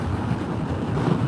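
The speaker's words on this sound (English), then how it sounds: "it is some kind of windy today" Gusty wind buffets the microphone in a low, continuous rumble, roaring and uneven for a brief moment.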